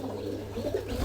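Jalali pigeons sitting on eggs and chicks coo in low, soft, warbling tones, close by and continuous for a brief moment, with no voices.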